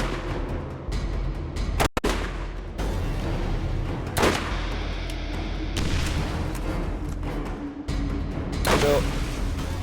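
Bursts of video game gunfire and booming blasts go off repeatedly as players shoot at a boss named Crom, loud impacts and rattling shots layered under an ongoing talking voice.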